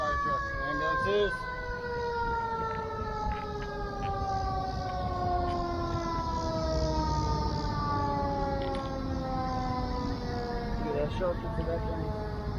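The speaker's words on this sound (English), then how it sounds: "Oh, I love fire trucks and ambulances." Fire truck and ambulance sirens wail continuously in a steady descending sweep, loud and close over street traffic, with overlapping siren tones throughout.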